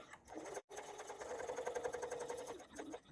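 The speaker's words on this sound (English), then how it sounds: "I'm just going to sew along here at 1/8 of an inch." A sewing machine top-stitching a coin purse at one-eighth inch, a fast steady mechanical whir with a brief stop early on, running close and fairly quiet.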